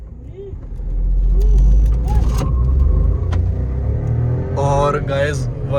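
A stock VW Virtus and a Hyundai Verna turbo petrol car drag race, heard as a loud steady engine drone from inside a car, with chirps and clicks and people talking near the end.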